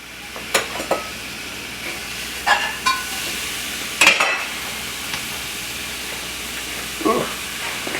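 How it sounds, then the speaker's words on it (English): Five or six slices of bacon sizzle in a frying pan, a steady close hiss with occasional louder pops and spatters rising above it. "Can't wait to hear that sizzle."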